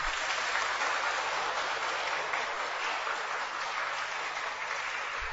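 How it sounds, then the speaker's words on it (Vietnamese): A church congregation applauds to celebrate Christmas at a Christmas Mass, a steady, even wash of many clapping hands sustained throughout, heard from some distance and fairly soft. "anh em không định vỗ tay để mừng Giáng sinh cha Thành à?"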